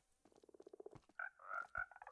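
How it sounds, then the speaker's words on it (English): Frogs in the Minecraft video game croaking close by: a quick run of soft, evenly spaced pulsing croaks, then a few louder, higher chirping calls, with no talking. "got a few frogs."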